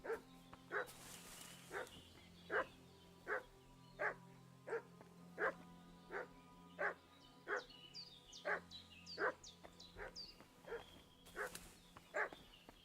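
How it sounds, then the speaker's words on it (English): A dog barks repeatedly in the Kingdom Come Deliverance 2 video game, steady evenly spaced woofs over a low ambient drone, moderately near, with a brief faint whine-like sound near the end. "What's that dog making such a fuss about?"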